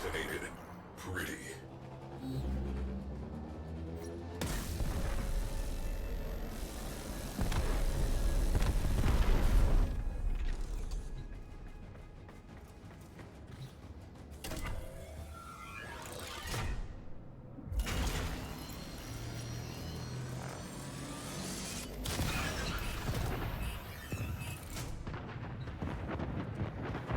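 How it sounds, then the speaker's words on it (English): A cruise ship reactor detonates in the Warframe game, heavy booming explosions and rumbling blasts rolling loud over many seconds, mixed with gunfire-like bursts and whooshes, with voices talking over parts of it. "Cruise ship reactor has detonated."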